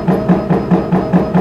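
An Avestin EmulsiFlex-D20B high pressure homogenizer runs close and loud after starting up again, its pump pulsing in a steady rapid rhythm of about seven knocking beats, alone with no talking.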